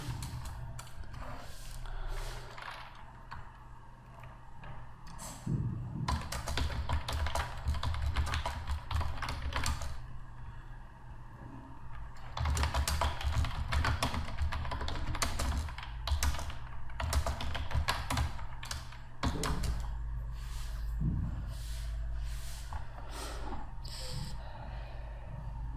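Steady typing on a computer keyboard, fairly close, coming in several busy stretches of quick clicking with short quieter gaps between them.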